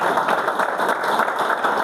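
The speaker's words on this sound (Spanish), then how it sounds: "¿Cuántos le dan un aplauso al Señor?" A church congregation applauds together, a steady, dense wash of many hands clapping at even loudness, filling the room without pause.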